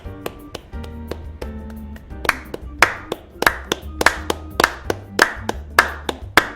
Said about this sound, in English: I'm trying to clap for each one of them.